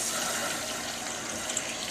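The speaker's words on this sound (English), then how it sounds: "I'm just going to put water on top of here so that it covers everything" Water pours from a tap into a pot of beans, ham and chopped onion, a steady broadband splashing rush lasting the whole moment.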